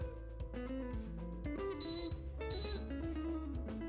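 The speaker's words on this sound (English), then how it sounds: "press and hold the Reset button until two long beeps." An iSpring RO5004F reverse osmosis filter system giving two long electronic beeps after a filter reset, clear tones over steady background music.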